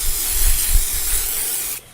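An aerosol spray can hisses in one continuous close burst, a loud airy rush that ends abruptly, with a faint rattle underneath, used on cardstock papercraft indoors.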